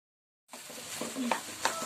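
Khoya frying in a pan of carrot halwa, a low sizzle that starts abruptly and continues with a few stirring scrapes, close and steady, with no speech.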